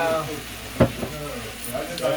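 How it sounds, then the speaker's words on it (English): Oil sizzles and crackles steadily as steak and potatoes fry in a hot pan, with a brief utensil knock and a soft voice partly underneath. "So you hear that sizzling."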